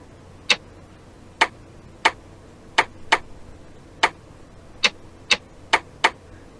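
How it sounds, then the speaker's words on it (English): A strange clock with buttons in the video game Dark Fall ticks in sharp, crisp clicks, about ten over several seconds at an uneven rhythm, close and clear against a low steady background hum, with no speech. "What a strange clock."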